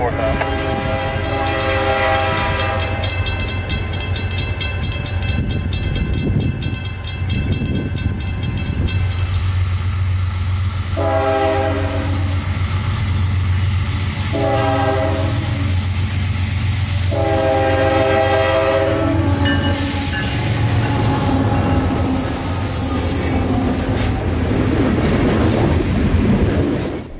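Northbound freight train led by a Kansas City Southern locomotive passing a junction in Plant City, with loud repeated horn blasts, a steady heavy rumble and wheel clatter throughout.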